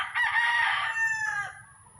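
A rooster crows on a small chicken farm, one long loud call that swells and then trails off, sounding close and standing alone, with a low rumble of background noise underneath.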